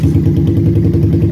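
A Raider 166cc motorcycle with a 66mm bore idles just after a cold start on a cold, rainy day, its low, steady engine rumble running close and loud without a break.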